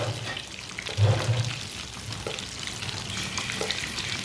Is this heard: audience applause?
no